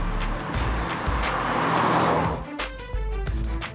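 A 1986 MG Montego Turbo driving, its engine close and loud with a rising roar that drops as it shifts gear and then pulls again, no voices.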